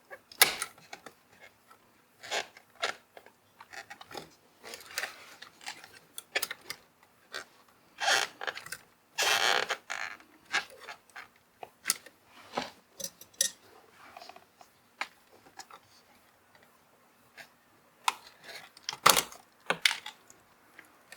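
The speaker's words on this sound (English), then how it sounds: "And this one, you can just pry it out." Plastic trim clicks and snaps as a piece is pried out of a car steering wheel during an aftermarket wheel install, a run of sharp close taps and cracks in irregular bursts, with no talking.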